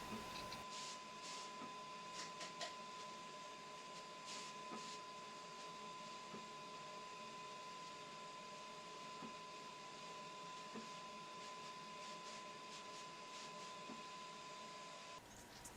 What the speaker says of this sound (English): Here my plotter cutter is cutting through the rubber masking material.